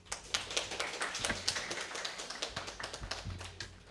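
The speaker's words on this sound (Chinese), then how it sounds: "给讲者一个热烈的掌声。" A conference audience gives a speaker a warm round of applause after a tech talk, with steady, closely spaced claps continuing for several seconds at moderate distance and no talking over them.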